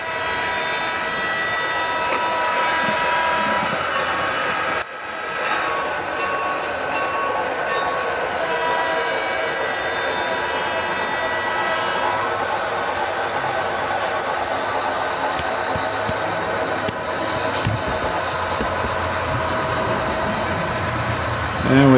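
A steady rolling clatter of a small model train running along its track continues without a break, with a faint whistle-like tone above it.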